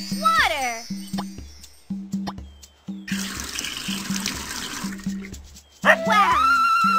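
Running water in Dora's Magical Garden game, a splashing, pouring stream lasting a few seconds between short synthetic tones and musical blips, with a voice chiming in near the end.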